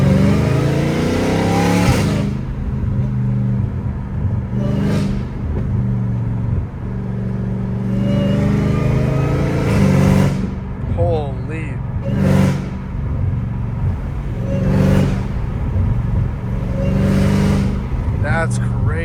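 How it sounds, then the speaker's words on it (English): Straight-piped, supercharged Dodge Hellcat Redeye engine revs loudly in repeated surges, with a few sharp blips over a steady deep rumble, close by, while people talk over it. "why are superchargers like so satisfying to listen to?"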